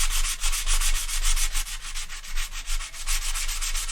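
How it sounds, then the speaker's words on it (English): Steady hand sanding on a wooden musical instrument, a close, continuous rasping rub with rhythmic back-and-forth strokes and no voices. "to watch him sand."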